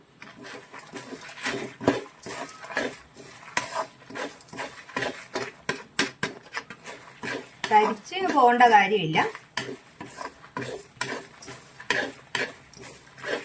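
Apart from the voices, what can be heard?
stirring and mixing prawns into roasted chutney powder in pan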